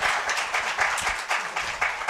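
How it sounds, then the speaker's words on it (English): An audience at a live book launch claps in a dense, steady round of applause, close and fairly loud with a rippling rhythm. "Let's give her a round of applause"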